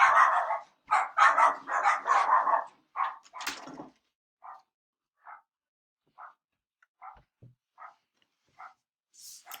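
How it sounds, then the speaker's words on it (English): A dog indoors barks at another dog down the street, starting with a rapid run of loud, close barks, then trailing off into sparse, shorter yips and woofs spaced a second or so apart, with no talk. "My dog saw some dog from down the street that they always have a bark fest with"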